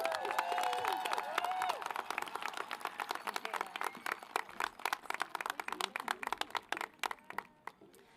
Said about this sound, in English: Let's have another round of applause for them, Shanaida and Michaela.